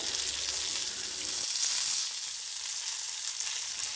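Red chillies, curry leaves and coriander seeds roast in a hot pan for ginger chutney, giving a steady close sizzle that briefly swells, then settles into a softer crackle with faint stirring scrapes.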